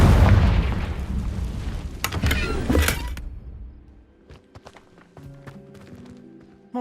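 In the Hogwarts Legacy video game, a Confringo fire spell detonates in a loud, heavy boom with rumbling debris, then gives way to quieter scattered clicks and thuds.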